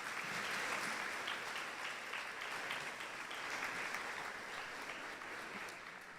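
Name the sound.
church congregation applause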